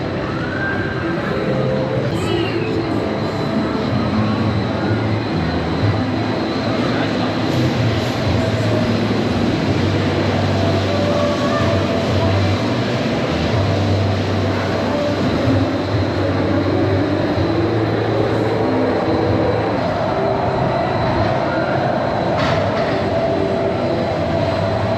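Cootie Coaster kiddie ride running inside the busy West Edmonton Mall, a steady rumbling, clattering roll that carries on throughout under a loud, continuous indoor crowd din.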